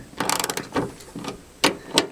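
A 13 mm wrench breaks loose the hinge bolts on a Ford Transit van's sliding door, giving a few short, close metallic ratcheting clicks in separate bursts.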